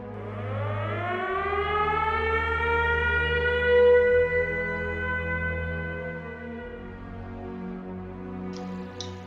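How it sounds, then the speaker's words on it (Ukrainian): Air raid civil defense siren rising into a long sustained wail, loud and steady with a slow pitch sweep, heard alone without talk. "Увага! Повітряна тривога."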